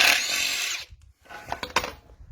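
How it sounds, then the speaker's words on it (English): Socket wrench reversing out the blade nuts on a Honda HRU216 lawnmower disc: a loud buzzing power-tool whir runs for under a second, stops, then resumes in short, sharp bursts and rattles. "with the 11/16 socket, I just reverse out the nuts and change the blades on my disc"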